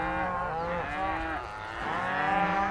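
Cattle moo repeatedly and loudly, several animals overlapping in close succession, on a working cattle ranch in open Montana country while cows are moved up into the Lewis and Clark National Forest.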